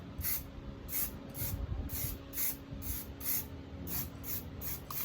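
Spray gun misting paint onto paper for a decal, a run of about nine short, evenly spaced hissing bursts over a low steady background hum, close and fairly loud, with no talking.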